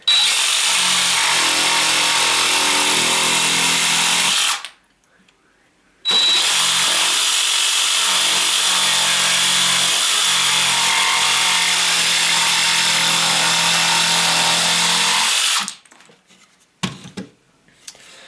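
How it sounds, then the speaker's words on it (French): A jigsaw cuts through a wooden stake clamped on a workbench, buzzing loudly and steadily in one long pass, pausing briefly, then a second long continuous cut before stopping, followed by a few faint knocks. "cette fois-ci la scie sauteuse va très bien s'y prêter"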